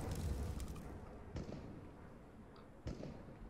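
A flashbang grenade in CS:GO gives a few sharp bursts over a rumbling game soundscape: a loud thump at the start, then two more cracking hits about a second and a half apart, with no talking.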